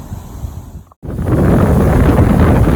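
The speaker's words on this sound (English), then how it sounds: "Well, the wind's got up a bit, as we can see. Blowing right at us." Wind blows hard straight at the microphone by the water on a carp fishing outing, a quieter rumble that cuts out briefly and then returns as a loud, steady buffeting roar.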